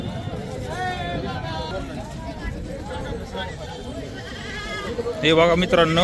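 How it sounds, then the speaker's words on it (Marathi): Several goats bleat in short wavering calls through the bustle of the Kalamb Monday goat market, with someone talking over the crowd hubbub and a louder, closer bleat near the end. "शेळ्या आहेत साड्या"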